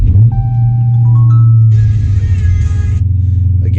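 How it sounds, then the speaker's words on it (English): A Dodge Scat Pack V8 cranks with a whine, then catches and settles into a loud, deep rumbling idle with a brief swell of revving, heard up close with no talking. "we're going to give the car a good start"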